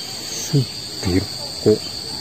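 Crickets chirp in three short, separate bursts spaced about half a second apart, close and clear over a quiet background with a steady high tone.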